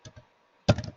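Computer keyboard typing while an SQL query is written, two light keystrokes followed by a pause and then a louder quick burst of several clattering keys, close up and alone.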